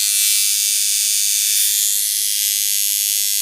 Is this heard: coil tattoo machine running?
yes